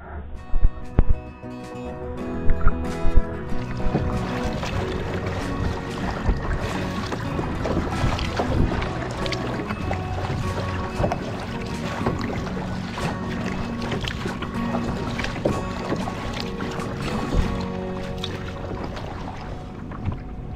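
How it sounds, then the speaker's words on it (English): Kayak paddling through shallow water on the Matanzas River, a steady wash of water and hull noise with wind rumble and a few sharp knocks early on, loud and continuous. "we found ourselves kayaking through some shallow water"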